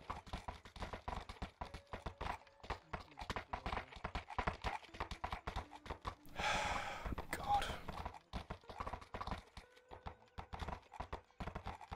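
Horses climbing a hill, hooves clip-clopping in a steady uneven rhythm close by, with a short breathy rush in the middle.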